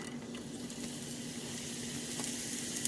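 Green onions sauté in oil in a skillet for shrimp fried rice, giving a steady, hissing sizzle with a faint hum underneath, continuous and fairly close.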